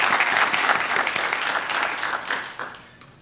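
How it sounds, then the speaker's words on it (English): Applause from an audience at a medical school white coat ceremony, with full, dense clapping at the start that gradually fades out over about three seconds. "Let's give her a round of applause."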